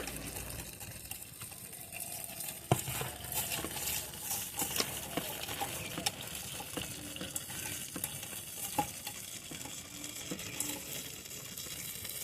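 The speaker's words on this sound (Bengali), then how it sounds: "লবণটা পেঁয়াজ রসুনের সঙ্গে মাখিয়ে নিচ্ছি এখন কিছুটা কাঁচা পেঁয়াজ দেবো" Salt worked into onion and garlic by hand for a mashed bharta, with raw onion then added, making a steady, close, wet squishing and kneading over faint background noise.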